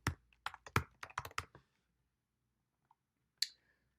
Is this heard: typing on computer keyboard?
yes